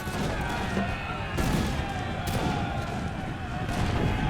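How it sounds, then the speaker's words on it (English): Musket volleys crackle and boom in a dense, continuous battle din during a charge in the Imperial Splendour video game, with repeated sharp volleys over a loud roar and a voice talking over it. "they got a few volleys off before we actually hit this charge"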